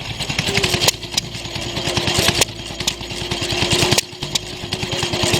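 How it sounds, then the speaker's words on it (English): Rapid even chuffing comes from a vintage engine driving a water pump with a 4-inch canvas belt at an outdoor engine rally, close and loud. Louder periodic thumps recur about every second and a half. "it sure seems to be working very efficiently with a 4-inch canvas belt driving the water pump"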